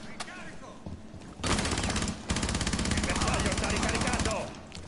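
Dense gunfire in the video game Rainbow Six Siege: quieter shots early on, then a loud sustained rapid volley of automatic fire from about one and a half seconds to the end, with voices in the background.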